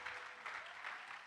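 Congregation applauding in church during a worship service, a brief burst of dense clapping at moderate distance with no speech over it.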